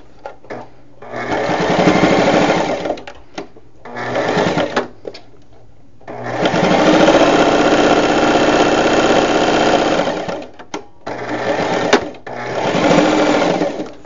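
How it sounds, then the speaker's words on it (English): A sewing machine stitches straight seams through fabric scraps being made into guinea pig pee pads, running in several loud, steady whirring bursts separated by short pauses. "I'm just going to go sew straight there."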